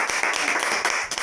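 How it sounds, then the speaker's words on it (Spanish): Brief burst of audience applause closing a talk by a guest speaker, dense clapping at moderate level filling the short moment without speech. "darle un aplauso a Guillermo por haber venido,"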